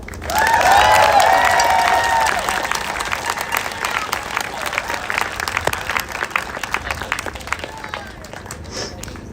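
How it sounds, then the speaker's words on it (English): Crowd applause and cheering at a trans unity rally outside the U.S. Capitol, loud and dense at first with whoops over the clapping, then thinning into scattered claps and voices. "Another round of applause."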